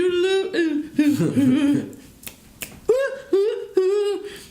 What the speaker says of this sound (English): when you snap your fingers, it's actually your finger hitting your hand